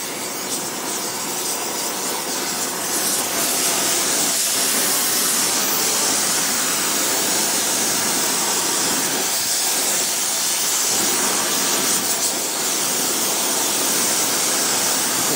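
Molten tin poured onto a bronze ring for soldering gives a loud, steady hiss like steam or a torch flame, a continuous rough noise up close with slight surges and no talking.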